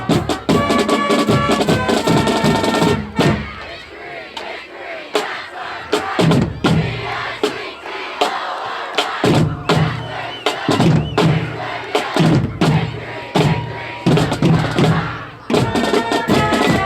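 A high school football crowd roars and cheers loudly in repeated bursts, with thumps and shouts rising and falling across the stands and brief quieter gaps between surges.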